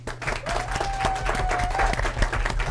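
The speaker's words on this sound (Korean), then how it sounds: "여기 MC 분들께 박수 드리겠습니다" Applause for the hosts at a live Korean CEO talk show taping, a steady wash of clapping from the studio audience lasting a few seconds with a faint tonal line running through it.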